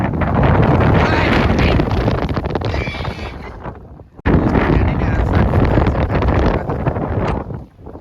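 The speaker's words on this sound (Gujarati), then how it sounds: "ભાઈ પવન તો જો યાર કેટલો પવન યાર" Strong wind buffets the microphone in loud, continuous gusts on a boat at sea during a coastal fishing trip, with a brief lull midway before the roar returns.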